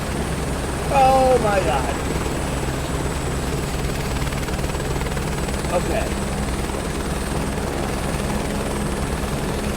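A helicopter in Microsoft Flight Simulator 2024 hovers with a steady, dense rotor drone throughout, while a person's brief exclamations sit on top of it.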